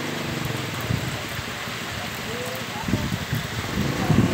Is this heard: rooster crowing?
no